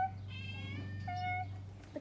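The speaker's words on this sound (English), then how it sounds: "The cat." A domestic cat meows twice, a longer call followed by a shorter one, close by over a steady low electrical hum.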